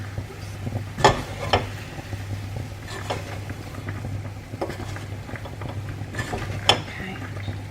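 Onions stirred in a cooking pan with a utensil: soft scraping and occasional clinks against the metal at irregular intervals over a steady low hum and faint sizzle.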